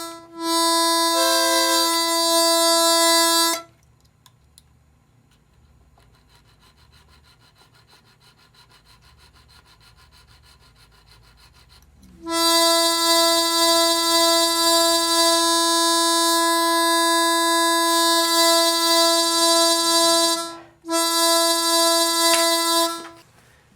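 A harmonica reed sounds in long sustained tones, tuned slightly past its edge so a slow beating wavers through it, in three loud bursts separated by a quiet gap.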